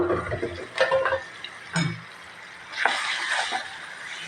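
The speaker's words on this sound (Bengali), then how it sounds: "ঢাকনাটা তুলে এবার একটু নাড়াচাড়া করে দিব" Beef curry with bottle gourd and chana dal is stirred in a pot, giving a few close, intermittent scrapes and clinks with quiet gaps between them.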